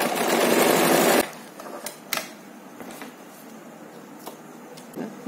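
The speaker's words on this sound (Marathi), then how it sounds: "आणि आता आपण इथून हे स्टिच करून घेणार आहोत पूर्णपणे" A sewing machine double-stitches a pouch in one loud continuous burst lasting about a second, then gives way to quieter handling clicks and taps.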